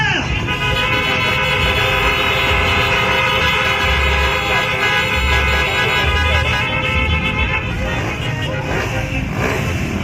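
A loud, sustained car horn blares continuously for about ten seconds, steady and close, with engine noise underneath.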